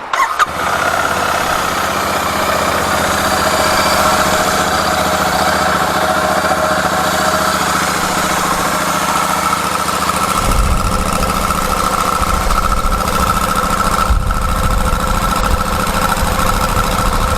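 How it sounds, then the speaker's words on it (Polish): A brand-new 2023 Royal Enfield Super Meteor 650 motorcycle starts up and settles into a loud, close idle with a steady, throbbing beat, the low rumble deepening partway through; no talking. "Pierwsze odpalenie silnika."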